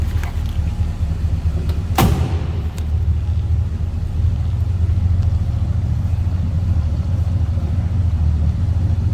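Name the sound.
1968 Ford Galaxie 500 302 V8 engine idling, exhaust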